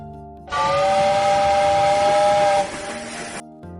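A train's steam-style whistle at a railway station blasts loud and steady for about two seconds, then fades into a hissing tail before cutting off.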